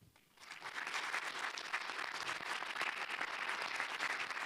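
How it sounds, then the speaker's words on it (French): An audience at a university talk on the IPCC sixth climate report bursts into applause, the clapping rising quickly from quiet and holding as a dense, steady patter of many hands. "d'abord, on les applaudit."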